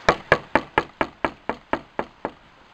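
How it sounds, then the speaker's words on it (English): Ten evenly spaced knocks on a door, sharp and close, in a steady rhythm that fades slightly toward the end, with no talking. "I'll knock."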